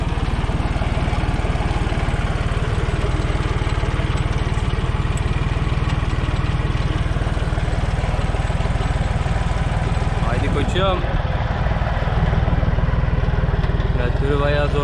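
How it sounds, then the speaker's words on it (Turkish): A tractor laying drip irrigation hose strains as it pulls, its engine a steady, throbbing low rumble that runs loud and continuous close by, with a slight surge near the end. "Bazı yerlerde traktör zorlanıyor bayağı."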